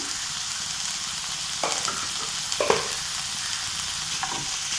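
Thoothuvalai leaves sautéing in a hot pan with salt for chutney: a continuous soft sizzle broken by a few sharp scraping stirs of the spoon, heard close with no talking.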